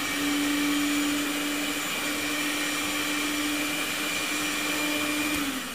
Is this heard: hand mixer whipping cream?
yes